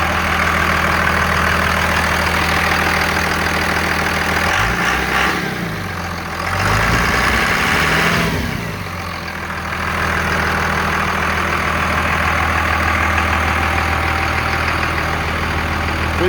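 Truck with a swapped 24-valve Cummins diesel idles nearby with a steady, clattering low drone, briefly revved twice in the middle before settling back to idle; no one speaks.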